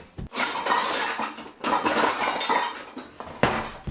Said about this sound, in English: In a bowl, combine all your dry ingredients and stir to combine.